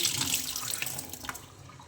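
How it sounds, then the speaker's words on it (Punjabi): Cold water runs from a mixer tap, a steady close splashing hiss that eases slightly toward the end, with no talking. "ਜੇ ਇੱਥੇ ਸਿੱਧੀ ਚਲਾਉਨੇ ਆ ਠੰਡਾ ਪਾਣੀ ਆਉਂਦਾ"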